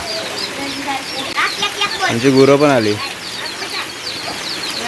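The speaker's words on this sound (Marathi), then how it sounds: "कोंबडीची लहान लहान पिल्लं बघा किती आहेत" A hen clucks and her ten or eleven chicks cheep nearby over steady background noise of rain, with a person speaking briefly in the middle.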